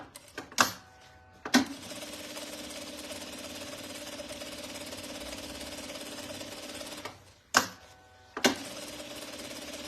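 A home sewing machine runs a zigzag seam with thin, fine thread in a long steady mechanical whir, framed by sharp clicks and brief starts and stops at either end, close up with no talk.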